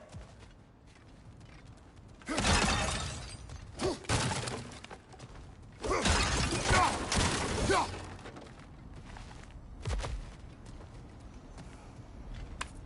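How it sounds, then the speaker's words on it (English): Objects smashing apart in God of War Ragnarok, two loud bursts of breaking debris near 2.5 and 6 seconds with smaller cracks and thuds between, over a low ambient bed. "back to smashing through things for fun and profit"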